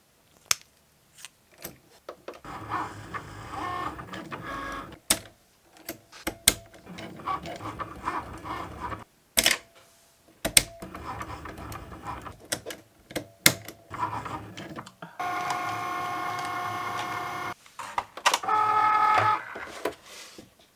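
A Cricut machine cuts and draws a watercolour card, giving bursts of mechanical whirring and clicking, with pauses and sharp carriage movements, close and fairly loud with no voices.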